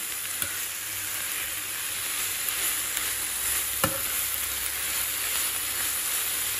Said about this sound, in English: onions and peppers are cooking